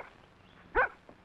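A single short dog bark at moderate distance, one sharp yelp rising out of a quiet background with a faint trailing sound after it.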